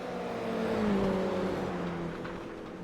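A Toyota GR86 race car circulates on a circuit during a cup race, its engine note rising and then falling as it sweeps by at moderate distance.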